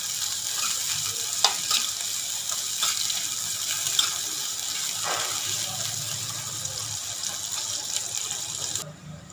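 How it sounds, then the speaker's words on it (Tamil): Sliced onions for chicken biryani fry in a pan toward golden brown, making a steady crackling sizzle with a few sharp pops and stirring noises, loud and close throughout. "வெங்காயம் நல்லா பொன்னிறமாக பொரிச்சு வரட்டும்."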